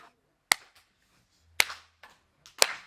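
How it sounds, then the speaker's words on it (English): Three sharp, separate hand claps from a group of participants, each a crisp isolated burst with short decay, spaced about a second apart in a quiet room. "you can just clap."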